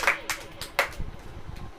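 A church congregation claps in a short burst of several sharp, uneven claps, fairly close, with a voice speaking briefly over it.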